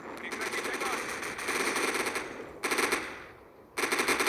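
Rapid bursts of automatic gunfire in the video game Firefight with a Ukrainian war mod, loud and dense, cutting off abruptly and resuming in repeated volleys.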